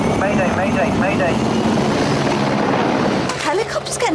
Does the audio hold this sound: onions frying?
no